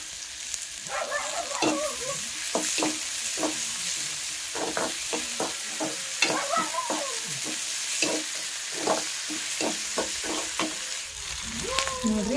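Chopped tomatoes frying in a pan in a village kitchen, a loud constant sizzle with bursts of crackling and spatter as they are stirred, close up.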